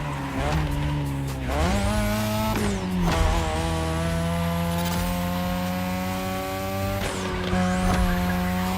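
A Mazda RX-7 with a rotary engine races in The Crew Motorfest video game, its loud buzzing engine revving up and dropping repeatedly through gear shifts with tire squeal, continuous and close.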